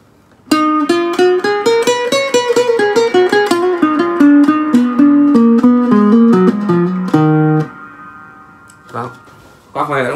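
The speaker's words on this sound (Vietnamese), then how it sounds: "đây là tiếng reverb" A plucked Kalena classical guitar plays a descending run of single notes through its built-in reverb, lingering, then a few sparse notes ring out near the end.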